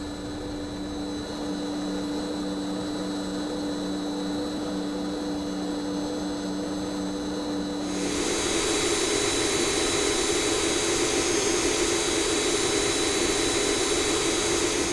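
MD-80 jet engines in the X-Plane 10 flight simulator roar steadily during climb-out, a constant loud whine and rumble that grows fuller and brighter about halfway through, with no voices.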